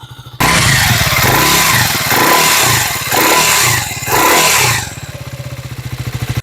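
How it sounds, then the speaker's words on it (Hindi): Triumph Tracker 400 motorcycle with a 350cc engine, its exhaust loud and close as the engine is revved in a few bursts and then settles into a throbbing idle. "तो ये है exhaust note of the tracker 400"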